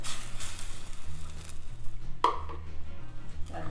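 A spoon stirs thick choux pastry dough in a pan on low heat for cream puffs, a steady scraping and sizzling texture with one sharp knock partway through, close and unbroken, no voices.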